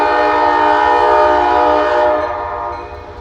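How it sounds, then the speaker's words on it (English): A long freight train of over 300 axles passes on the near track in heavy snow, its horn blaring loud and sustained before fading slightly toward the end. "Got another train coming on track 2."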